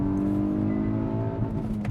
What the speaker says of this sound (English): Oh, hit the rev limiter.